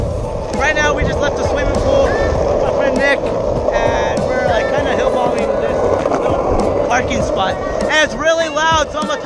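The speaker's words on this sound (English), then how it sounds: "It's really loud, so I'm gonna talk even louder than my skateboard." A skateboard rolls loudly and steadily over rough pavement, a constant gritty rumble of wheels throughout, with someone talking over the noise and other voices briefly heard.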